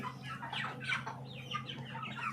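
Chickens on a poultry farm nearing harvest cluck and squawk in overlapping bursts, a close, steady flock chatter over a low constant hum of farm machinery or fans.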